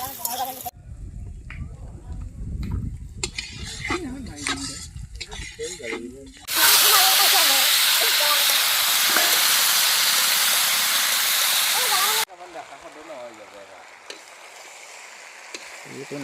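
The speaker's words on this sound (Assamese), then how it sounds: "কেৰাহী গৰম হোৱাৰ পাছতে পিঁয়াজ দিয়া হৈছে। পিঁয়াজখিনি ধুনীয়াকৈ ভজা হোৱাৰ পাছতে মছলা দিয়া হৈছে।" Onions and spices hit a hot karahi with a sudden loud, even hiss that holds for several seconds before cutting off, with people talking before and after.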